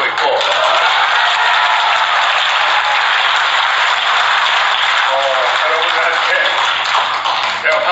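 Steady dense applause from a large audience at an event with a national security aide, filling the whole stretch loudly and evenly with a few voices faintly mixed in.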